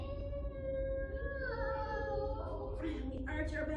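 Children at a family yoga class imitate a scared cat with drawn-out voiced meows that rise and bend in pitch, several overlapping voices, then a second wavering meow toward the end.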